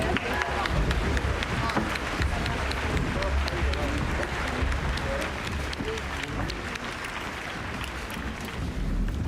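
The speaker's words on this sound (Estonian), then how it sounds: "ma palun aplausi, Tartu Ülikooli sümfooniaorkester!" Outdoor audience applause for the University of Tartu symphony orchestra at a city-day gala concert, a steady dense wash of clapping and crowd noise beside busy traffic that holds through the whole stretch.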